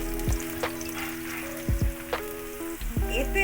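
Chopped onion and crushed garlic frying in a hot pan for a Bangladeshi chicken dish, a steady close sizzle broken by a few sharp stirring clatters and scrapes.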